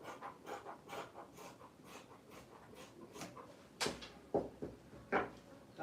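Trouser fabric being cut by hand, a run of soft, quiet snips and rustles followed by a few sharper, louder cuts near the end, with no talking.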